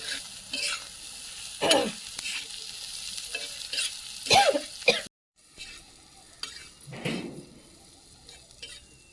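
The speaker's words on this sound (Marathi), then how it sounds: "आपण जरा हे हलवून घेऊया" A spatula stirs green chillies frying in a pan for a spicy Maharashtrian mirchu, giving a few sharp scraping and clinking bursts over a soft, low sizzle, with a short silent gap midway.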